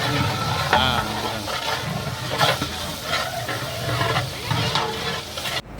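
Ginger garlic paste is stirred into sizzling onions for a chicken dum biryani base, a spoon scraping and clanking in the pot over a steady close crackle of hot oil, with no one talking.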